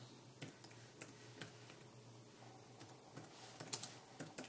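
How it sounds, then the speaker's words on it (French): Soft, irregular taps of typing on a Belkin Ultimate Keyboard Case for iPad, quiet and close, with a faint background hum and no talking. "quand le clavier est assez proche de l'écran, on a tendance à taper dessus"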